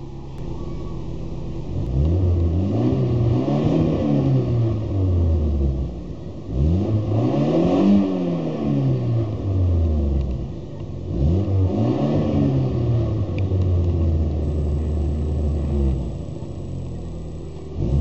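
A 1994 Mazda 323 engine idling in park or neutral, then revved three times in long sweeping climbs toward the limiter, each rev rising and falling back to idle, loud and close.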